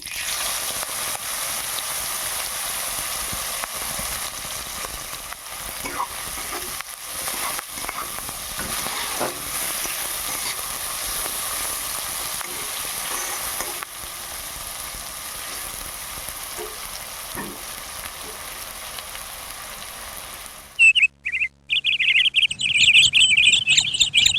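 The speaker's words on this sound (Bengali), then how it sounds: "তেলটা গরম হয়ে গেছে পেঁয়াজটা দিয়ে দিচ্ছি" Onions hit hot oil left over from frying fish and sizzle loudly and continuously, close up. Near the end the sizzle cuts off abruptly, followed by a few clattering kitchen sounds.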